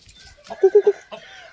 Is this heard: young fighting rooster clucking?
yes